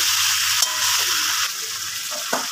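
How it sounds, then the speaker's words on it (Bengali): Fried pointed gourd, added with fried prawns for potol chingri, sizzles in a hot pan while being stirred, giving a steady loud frying hiss with a few scraping strokes, close by. "এবার দিয়ে দেবো ভাজা পটল। এখন বন্ধুরা ভালো করে কষাতে হবে।"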